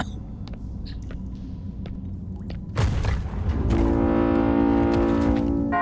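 A foghorn from a puzzle in the video game Dead Stop: after scattered faint clicks, a sudden loud boom gives way to a deep, sustained horn tone that holds steady to the end.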